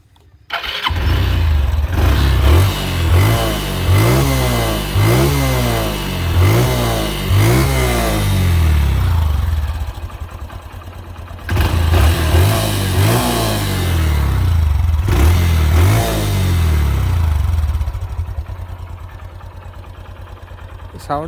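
A second-hand Honda Dream 110cc motorcycle engine revs close by in a series of quick, rhythmic throttle blips, settles back, then revs up again in several loud surges before easing down.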